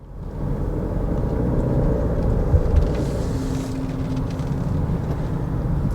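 A 2022 Genesis GV70 2.5T on the move, its cabin filled with a steady low road rumble and engine drone that swells slightly and then eases, with no voices.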